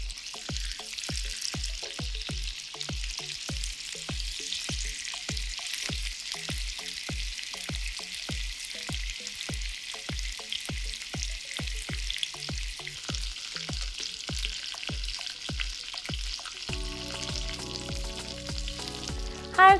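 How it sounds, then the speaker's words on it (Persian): Chicken pieces fry slowly in oil in a pan over low heat, a steady soft sizzle and crackle with quiet regular clicks underneath, close and continuous with no voices. "یه مقدار روغن میریزم توی مایتابه و مرغامو میذارم توش و اجازه میدم به آرومی و با سوی کم سرخ بشه و بپزه"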